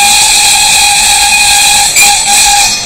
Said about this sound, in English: The train's well on the way.